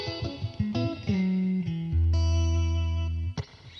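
Clean electric guitar through a lightly adjusted Logic Pro amp preset, Strat-style, plays a short phrase of plucked notes and a held chord that rings out with reverb before cutting off.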